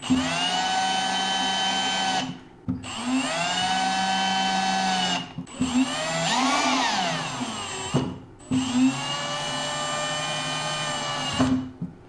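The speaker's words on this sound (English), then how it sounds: "We can go ahead and grab our drill and snug up our cap." A power drill whines in four close bursts separated by short pauses, its motor pitch rising and dipping as it tightens a cap on a water shut-off valve.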